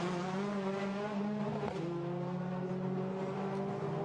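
A TCR touring race car at the Barcelona circuit, heading toward turn 16, roars steadily with a high engine whine, a brief gear-shift dip midway, and faint tire noise, no talk heard.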